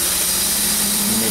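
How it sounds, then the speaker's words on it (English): The blower on a small steam engine boiler runs as a loud, steady, close whirring roar with a constant hum, unbroken for the whole moment. "and I'll turn on the blower."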